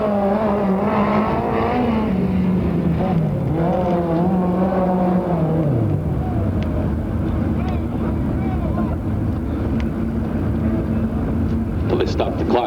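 A USAC midget race car on a qualifying lap at Ventura, California, its engine note rising and falling over the first six seconds, then fading into a rumbling background. A voice is heard speaking over it.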